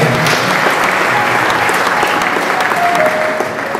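A church congregation applauding during a Sunday gospel service, a dense, loud, continuous burst of clapping that holds steady and tapers slightly at the end.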